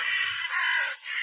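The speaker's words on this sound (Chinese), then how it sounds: "就乌鸦越来越多了" Crows calling nearby outdoors, a single harsh, raspy caw stretched over about a second with a brief dip before it trails on, fairly loud and alone.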